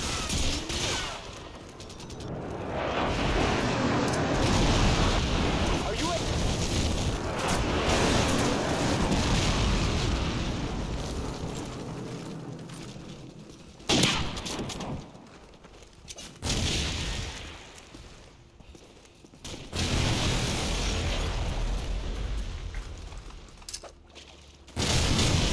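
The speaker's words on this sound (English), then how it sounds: "Friendly airstrike on the way!" Call of Duty 4: Modern Warfare multiplayer on the Bog map, a dense, loud wash of airstrike explosions and rolling gunfire that rumbles continuously, with a few sharper blasts and brief lulls.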